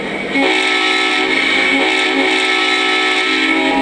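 A strong, steady horn from a Lionel Legacy SD70ACE model locomotive sounds loudly for several seconds, a rich chord holding without a break.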